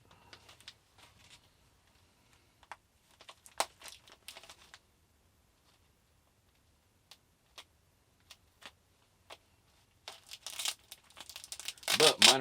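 A package of paydirt heavily wrapped in tape is pried open with a claw tool, giving sparse close ticks and small crinkles before a louder burst of tearing and crumpling toward the end.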